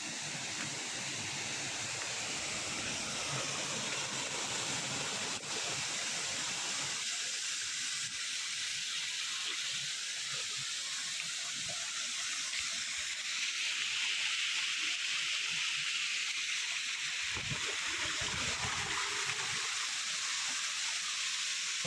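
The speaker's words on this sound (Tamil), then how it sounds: "நீங்கள் எதிர்பார்த்த அருவி வந்துருச்சு." A forest waterfall pours in a steady, loud broadband rush of falling water that fills the whole clip, with a continuous hiss throughout.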